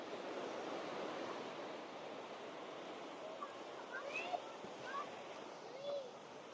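Steady rushing water, a continuous broadband roar of a waterfall pouring over rock on the Carter Falls trail, with faint chirps and clicks scattered over it.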